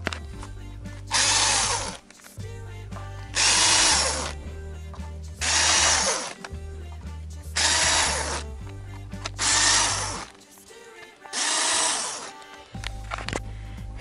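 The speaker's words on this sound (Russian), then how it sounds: "Для ускорения процесса я использую вот такой шуруповерт." Cordless screwdriver spinning out the sump bolts on a VAZ 2111 8-valve engine: five loud, close bursts of whirring motor and ratcheting bit, each lasting about a second, separated by short pauses with a low hum between them.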